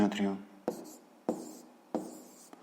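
A pen writes a math answer on paper in several short bursts of scratching strokes, each starting sharply and fading, after a brief moment of a voice speaking at the start.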